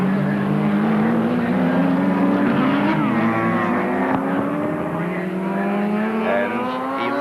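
Touring race cars, including a 2-litre Ford Escort, scream past at Symmons Plains during a 1983 championship race, several engines overlapping with rising and falling pitch sweeps in a continuous loud drone, faint commentary underneath.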